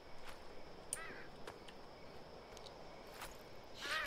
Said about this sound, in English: Look at those Lego birds.